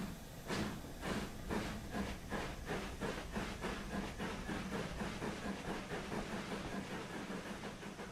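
An LMS 4F steam locomotive passes in Train Sim World 3 on the Peak Forest line, with rhythmic chuffing and rail clatter that repeat steadily and build to a dense rolling rhythm over a hissing steam background, with no talking.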